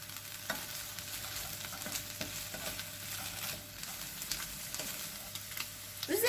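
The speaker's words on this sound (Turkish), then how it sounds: "Yağ ile beraber 1-2 dakika kadar soteleyelim." Chopped meat sautéing in oil in a hot pan for a Turkish kebab served in balloon pide, giving a steady close sizzle with occasional stirring scrapes and clicks throughout, no talking.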